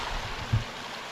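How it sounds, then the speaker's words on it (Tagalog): Clear, clean river on a coconut farm lot flows as a steady broadband wash of water, with a brief low thump partway through and no talking. "Pero ito ho pala ay may magandang ilog na ganito, kalinis."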